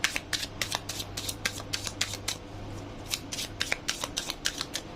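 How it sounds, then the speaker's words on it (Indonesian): Thin tarot cards are drawn from a deck, making a run of crisp, close riffling flicks that come in quick irregular clusters, with no voices over them. "Aku mencabut ya, ini kartunya tipis, ngarapin jatuh susah."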